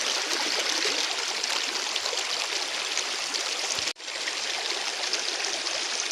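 A natural stream in a village countryside flows steadily with a constant bright rushing and trickling, close and fairly loud throughout, with a brief dip in the middle and no voices.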